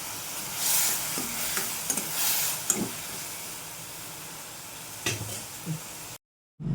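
Ingredients fry quietly in oil with turmeric for a moonlight-paced soft sizzle, broken by occasional scrapes and taps of a spoon against the pan, before a brief dropout near the end.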